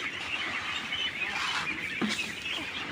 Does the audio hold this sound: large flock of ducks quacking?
yes